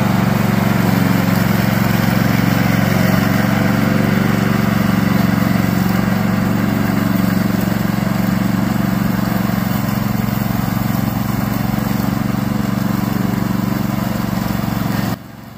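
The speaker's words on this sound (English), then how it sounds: "We are a Chinese manufacturer mainly produce remote control lawn mower." Remote control robotic lawn mower running continuously, a loud steady engine drone with a strong low hum, cutting off abruptly at the end.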